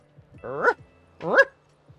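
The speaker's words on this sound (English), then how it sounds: "They have their own sound for the dog." Two short, high yipping barks from a small stray dog in the video game Tiny Bookshop, close and clear over a quiet background.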